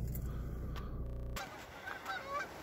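Geese honk outdoors in upstate New York in January, with several brief calls scattered through the clip, faint to moderate over steady low wind-like rumble, with no talk.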